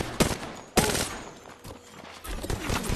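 Gunfire in the Apex Legends video game, sharp bursts of shots with two loud cracks early followed by rapid scattered firing, busy and close with game noise around it.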